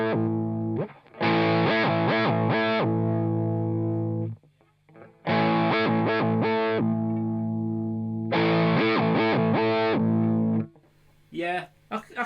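Electric guitar played through an Electro-Harmonix Pitchfork pitch shifter pedal, slowed down: three loud bursts of shifted, distorted notes separated by short pauses, ending in a few brief plucks.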